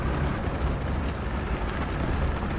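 Engine of an enemy Sherman Firefly tank in War Thunder rumbles low and steady, a continuous heavy drone with a windy, noisy texture running throughout, no voices over it.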